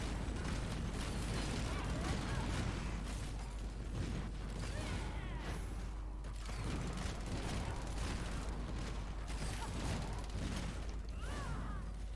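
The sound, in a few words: turret skill firing in video game Warhammer: Chaosbane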